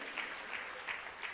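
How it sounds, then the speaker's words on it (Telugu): Members of a church congregation in Guntur break into steady group applause, a continuous even wash of many hands clapping at moderate volume with slight periodic swells. "చప్పట్లు కొట్టగలరు ఒకసారి?"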